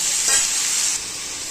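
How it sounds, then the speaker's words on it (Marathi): Cluster beans (gavar) being stir-fried and roasted in oil, with a steady, close hiss of sizzling and a brief scraping stir near the start, continuing unbroken with no talk. "हे शेंगा आहेत ना एकदम चांगलं तेलामध्ये परतवून द्यायचं"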